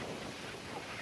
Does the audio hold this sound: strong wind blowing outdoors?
yes